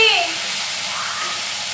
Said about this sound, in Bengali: বেগুন ভাজছি